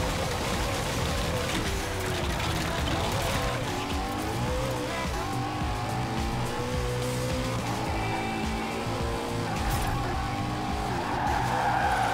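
Car drifting through a drift zone in the racing game Forza Horizon 4, with a loud, continuous engine roar and screeching tire squeal sustained throughout, dense and unbroken from start to end.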